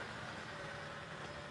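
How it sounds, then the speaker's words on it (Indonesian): A 2016 Mitsubishi SS pickup engine idles in a low, even hum, faint and continuous without talk. "ini mesin udah dinyalakan."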